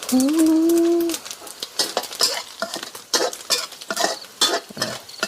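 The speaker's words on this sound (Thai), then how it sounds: "ผัดให้ข้าหอมก่อนนะคะ แล้วค่อยใส่เห็ด" Ingredients are stir-fried in a pan for a Thai dish of dried shrimp with wood ear mushrooms, with scraping stirs and clinks of a utensil over a soft sizzle, briefly under a voice at the start.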